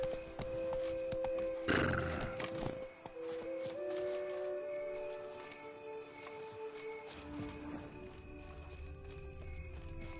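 Roach, Geralt's horse in The Witcher 3, whinnies loudly near the start, then hooves clip-clop steadily at close range over a faint in-game ambient hum with no talking.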